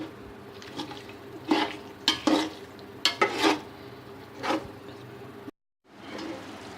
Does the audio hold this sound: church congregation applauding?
no